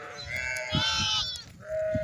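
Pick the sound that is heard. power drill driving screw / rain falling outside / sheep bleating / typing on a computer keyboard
sheep bleating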